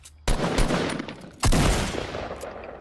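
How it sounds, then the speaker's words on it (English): Two sharp bursts of assault rifle fire in a video game, shots aimed at a wall, each a loud crack with a decaying echoing tail, spaced about a second apart. "Friend, shoot like two AR shots at the wall or something."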